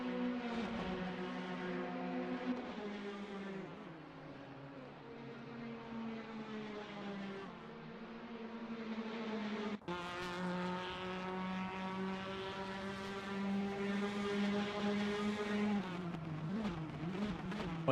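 Race cars in a Phantom Autos prototype race at Silverstone, engines droning steadily with rising and falling pitch as they pass, no voices over the continuous roar.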